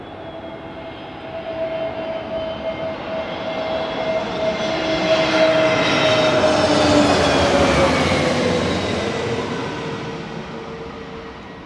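An Airbus A321 airliner comes in to land, its jet engine roar swelling from a distant rumble to a loud close pass with a falling whine before slowly fading. No voices are heard.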